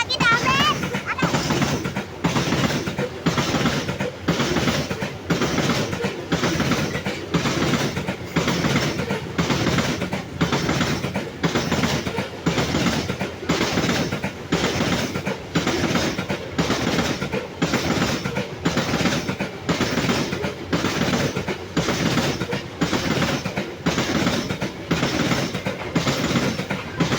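A coal train rolls past on the rails between Labuhan Ratu and Tanjung Karang stations, its wheels beating a steady, regular clickety-clack as wagon after wagon goes by close and loud, with faint voices in the background.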